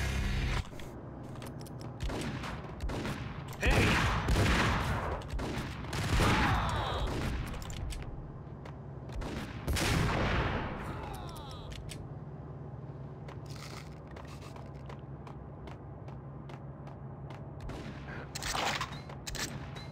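Gunfire in the Max Payne video game: several loud bursts of shots and impacts in the first ten seconds, then a quieter stretch with occasional distant shots and a final sharp burst near the end.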